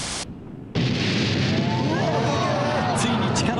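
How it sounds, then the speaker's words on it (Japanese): A huge fireball blast as an underground storage tank ignites during a chain of gas-cylinder explosions at a fire: a brief hiss, a sharp drop, then a sudden loud broadband roar that holds steady and rumbles on. "ついに地下の貯蔵タンクに引火、第二の大爆発が起こったのである"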